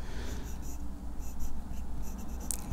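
A Namisu Nova aluminium fountain pen with a fine nib scratches across a paper pad in soft, steady strokes, faint and close, with a brief brighter scrape near the end.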